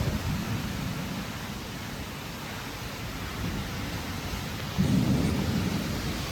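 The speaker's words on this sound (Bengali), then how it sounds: "এত বৃষ্টি আর এত বিদ্যুৎ চমকেছে।" Heavy rain from a Kalbaishakhi nor'wester storm in Murshidabad, West Bengal, roars steadily while a deep rumble of thunder swells near the end, loud and enveloping with no voices.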